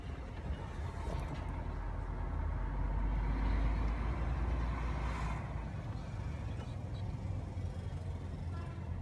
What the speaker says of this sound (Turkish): Bak otobüs otobüs dönecek abi.